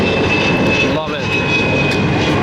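A jet airliner, something like a DC-9, roars during takeoff at Atlanta airport, a loud, sustained engine rush with a steady high whine, continuous throughout and close by.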